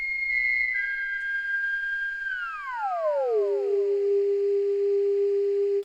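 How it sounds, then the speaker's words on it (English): A synthesizer counter-melody lead plays a pure, whistle-like tone that holds and then glides smoothly downward to a lower sustained pitch, with faint echoing trails, steady and alone. "next thing I added was another counter melody lead just to go on these last couple bars"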